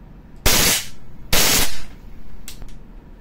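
WE Glock 35 airsoft pistol firing on full auto, two loud rapid bursts about a second apart and a brief faint third, each a sharp rattling clatter, no talk over it.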